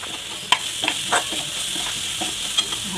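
Kharda, a Maharashtrian chutney of chillies with coconut, salt and peanuts, stir-fried in a pan: steady sizzling with repeated scraping strokes of a spoon against the metal, close up and without talk.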